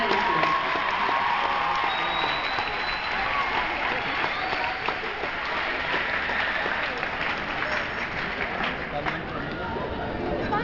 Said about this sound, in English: So give them a round of applause because they're now college students.